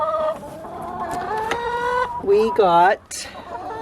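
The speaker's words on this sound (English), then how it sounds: "We got 14 of the Rhode Island red chickens our first year." Rhode Island Red chickens clucking and squawking close by in a homestead coop, a rising cackling burst near the end, with a person speaking briefly over them.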